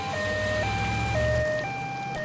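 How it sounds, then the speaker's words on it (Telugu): An ambulance siren in a movie sounds steadily at loud, close range, its alternating two-tone wail stepping up and down over a low engine rumble, with no talk. "ఏంటి అంబులెన్స్ వస్తుంది?"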